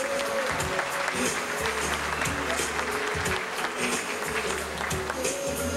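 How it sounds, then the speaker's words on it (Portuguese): A crowd at a 1998 anniversary celebration at Pousada do Rio Quente gives a warm, sustained round of applause for a guest, with music and voices mixed in beneath the dense clapping. "gostaria que todos o recebessem com uma carinhosa salva de palmas"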